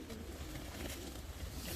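Young Akbaş German Demkeş fancy pigeons, three pairs, coo softly in low, rolling murmurs, close by and fairly quiet, with no talk over them.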